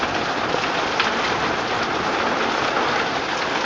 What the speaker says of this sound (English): The hail, hang on. The hail is big.